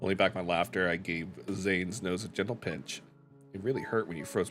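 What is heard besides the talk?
No distinct noise like a dog, phone or traffic.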